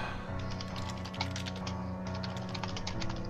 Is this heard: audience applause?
no